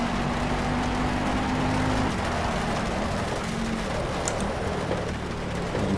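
Constant rain wash over a humming car engine in a rainy race in the video game Project CARS, steady and unbroken throughout.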